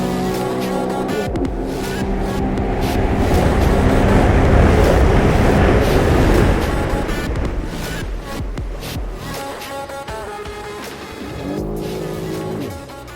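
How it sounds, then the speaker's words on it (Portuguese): A 2021 Sea-Doo Wake Pro jet ski accelerates hard on the water, its engine climbing to a loud roaring whine amid rushing spray, then easing off to a lower hum. "vou vir lá de baixo e puxar"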